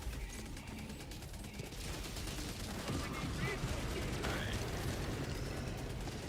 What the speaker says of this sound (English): It looked like my eruptor detonated early because of the tree